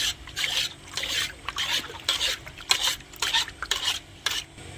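Cloth washing solution is stirred and mixed in a container, giving a close, uneven swishing and scraping in quick irregular strokes.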